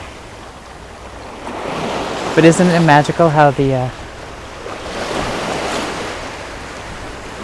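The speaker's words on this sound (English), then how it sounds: "the waves are lovely and splashing" Waves wash and splash steadily on the shore with wind noise, while a person briefly speaks over the surf midway.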